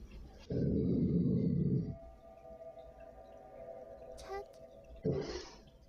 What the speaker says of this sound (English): There's the dog, I think.